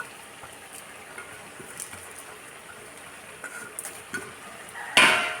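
Dry red chillies, coriander seeds, cumin and coriander leaves fry in a pan while being stirred for chicken gravy: a quiet sizzle with light spoon scrapes and clinks, ending in a louder metallic scrape.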